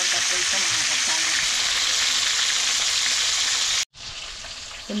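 Lipti fish frying in a pan, a loud, dense, continuous sizzle and crackle of hot oil that cuts out abruptly near the end and then resumes more softly.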